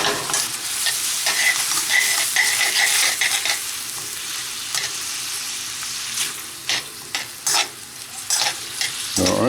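Calamari pieces sizzle loudly in a hot pan, a continuous bright frying hiss that later breaks into intermittent bursts as the squid is turned with tongs, no voices.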